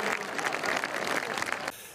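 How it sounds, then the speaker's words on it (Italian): A studio audience claps steadily for almost two seconds before the applause stops abruptly. "Mi piacciono gli applausi."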